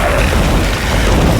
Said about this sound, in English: I see a cannon!